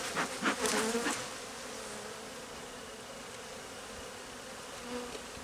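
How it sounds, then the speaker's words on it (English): A swarm of aggressive honeybees buzzes close around a beekeeper, a dense, continuous near hum with a few louder passes at the start, then a steady drone with no talking. "And I've got bees all over me."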